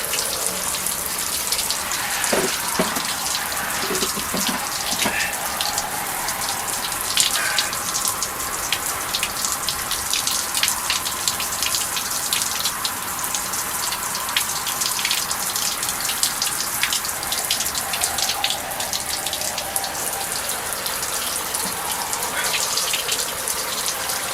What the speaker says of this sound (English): I just have a water pump down in my well. Pumps the water straight up here into a hose